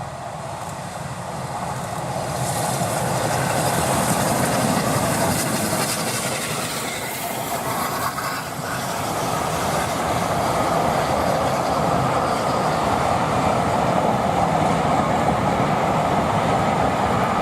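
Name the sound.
locomotive with train passing through Erdington station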